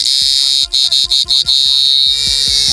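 A loud, steady high-pitched electronic whine from a power inverter running at full power, drawing about 35 amps. Its pitch briefly stutters in a quick series of pulses before holding steady again.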